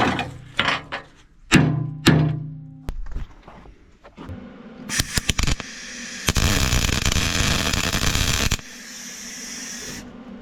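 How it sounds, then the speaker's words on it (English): Steady broadband crackling buzz of arc welding on skid steer teeth, loud and continuous for a few seconds after some clattering knocks, then a softer hiss. "I'll just weld a little bit on top of there."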